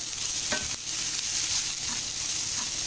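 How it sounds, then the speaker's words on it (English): Jalapenos and onions sizzle and fry in olive oil in a pan, a steady close hiss with a few light stirring scrapes and no talking. "jalapenos, onions going here."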